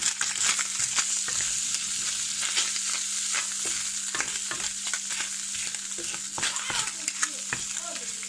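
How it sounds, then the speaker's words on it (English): Meat crisping and spitting in a hot pan for a keto meal, a steady bright sizzle broken by frequent sharp pops and crackles, close and fairly loud, with no talking. "And here's my meat. It's kind of getting crispy and spitty."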